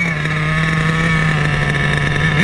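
A nitro RC car engine runs continuously with a loud, steady buzzing drone that holds constant, then rises sharply in pitch right at the end as it revs, close to the listener.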